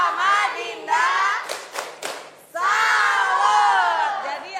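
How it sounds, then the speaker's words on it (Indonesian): A group of children chants a tepuk salut clapping cheer in a school classroom, loud voices shouting together in unison around a short burst of rhythmic claps. "Oke, kasih tepuk salut."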